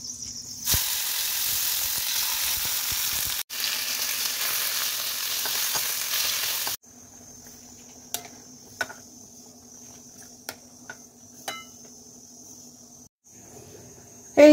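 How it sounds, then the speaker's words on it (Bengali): Parshe fish curry sizzles in hot oil in a small wok, a loud bright frying hiss for several seconds that then drops to a quieter simmer with a few light clicks of utensils. "আগে এই মাছের ঝালটা চাপিয়ে দিই"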